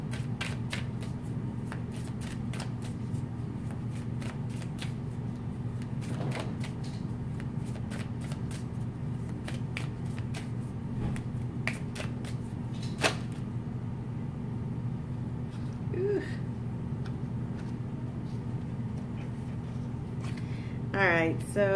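Tarot cards are shuffled by hand to pull a clarifier card. The riffling and sliding of the deck runs close and continuous under a constant low hum, with sharp card snaps scattered throughout.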